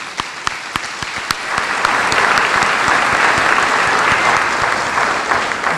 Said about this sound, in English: I want us to give him a big round of applause tonight.